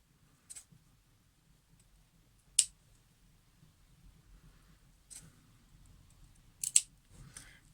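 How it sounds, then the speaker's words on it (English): Sharp scissor snips cutting fabric pieces for a pincushion, a few separate crisp cuts spaced seconds apart in a quiet room. "So just snip them out."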